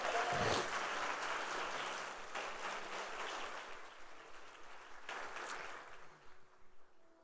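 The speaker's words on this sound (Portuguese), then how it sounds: "Só quem recebe dê um forte aplauso ao Senhor Jesus." A church congregation at a Sunday service gives a strong round of applause to Jesus; dense clapping starts fairly loud, then gradually thins and fades toward the end, with a few faint scattered claps.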